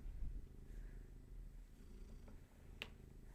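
A house cat purring close by, a soft, steady low rumble running through the whole moment, with a brief sharp click near the end.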